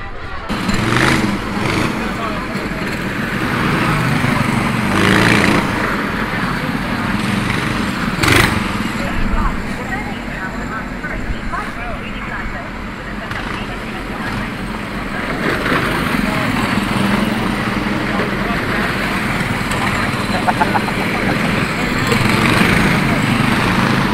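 Go-kart engines at the Rye House kart track between practice sessions, a steady drone of small engines running and revving near and far, with people talking over the noise throughout.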